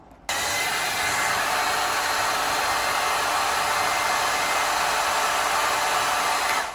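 A HiFairy hammerhead-style hair dryer switches on abruptly and then blows with a loud, steady, airy whoosh that holds constant for several seconds before easing at the end.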